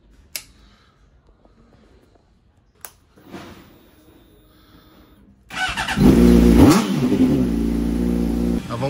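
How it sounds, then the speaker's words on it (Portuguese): A motorcycle starts up after some quiet handling noises, then its engine revs hard and stays loud and steady as it rides off close by. "hoje eu vou de moto"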